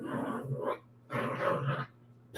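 A small dog makes two strained, whining bursts of vocal noise close by, separated by short pauses, the second longer and louder, with another starting as it ends.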